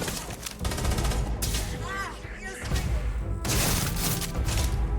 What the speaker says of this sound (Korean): 이 총 6발 한 방에 쏜다